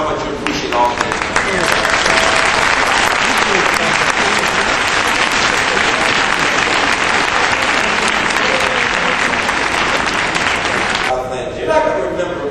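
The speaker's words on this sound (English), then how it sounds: "So I want the graduates to stand and applaud their families." Sustained, dense applause fills a large commencement ceremony as university graduates clap for their families, a loud unbroken wash that thins out near the end.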